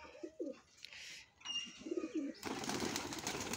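Many paired pigeons in a household loft coo in low, bubbling phrases, then a sudden burst of broadband rustling and wing noise rises over the flock.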